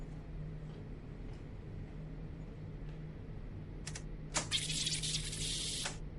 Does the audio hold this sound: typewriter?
yes